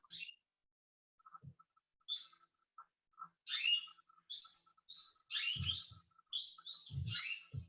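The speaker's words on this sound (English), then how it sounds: "Those are lovely birds." Birds sing in short, bright chirping bursts, sparse at first and then more frequent, with occasional soft low thumps between phrases and no talking.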